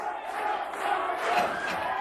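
A crowd at the 1988 World's Strongest Man contest roars and cheers steadily, a dense sustained wash of voices rising slightly in intensity, with a commentator speaking underneath.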